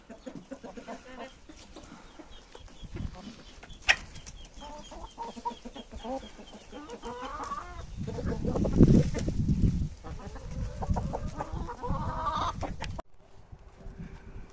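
A naked neck rooster clucking and calling among other chickens on a farm, with brief voices in the background and a louder burst partway through.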